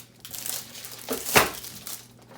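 Glossy A4 sticker paper sheets being handled, giving a soft crinkling rustle that builds to one brief louder crackle midway, close by with no talk.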